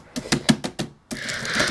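Clicky keys on an old Windows 7 laptop keyboard pressed in a quick run of about six sharp taps, close and distinct, followed by a stretch of hissy background noise.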